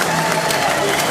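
Steady crowd applause and cheering fill the space, a dense continuous wash of claps, with a voice faintly mixed in.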